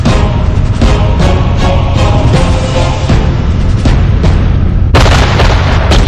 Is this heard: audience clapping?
no